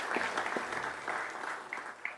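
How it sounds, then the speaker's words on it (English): Audience applause at a local civic ceremony just before officials take the oath of office, a steady wash of many hands clapping with a few sharper claps standing out, moderately loud throughout. "let's give them all a round of applause before they take the oath of office."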